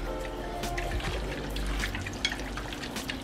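Teriyaki marinade sauce pours from a bottle in a soft, continuous liquid trickle with faint glugs, close and fairly quiet over a low background hum.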